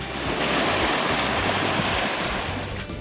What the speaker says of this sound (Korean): 파도가 방파제에 부딪힐 때면 하얀 물감을 뿌린 듯 자연의 도화지의 그림을 그린다.